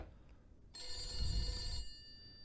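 A telephone rings in the horror video game The Beast Inside, one sustained bright ringing burst of about a second over a low ambient rumble, with no voices.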